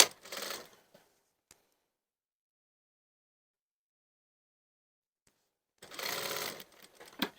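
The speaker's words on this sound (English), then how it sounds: "just the pocket bags we're sewing" A sewing machine stitches the pocket bags of a waistcoat welt pocket, two short runs of whirring at the start and end with silence between.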